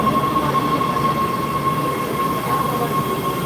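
Subway train rumbling past on the rails, a steady loud roar with a thin sustained wheel squeal running throughout, close and continuous with no talk.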